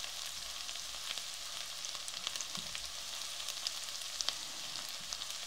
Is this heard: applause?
no